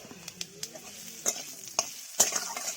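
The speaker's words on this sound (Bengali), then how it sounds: "বেশ চড়ো ফুটছে তো এবারে আমটা দিয়ে দিলাম" A spoon stirs mango pieces into a boiling sour dish in a pot, giving scraping and clinking strokes at irregular intervals over a soft bubbling sizzle, close and fairly clear.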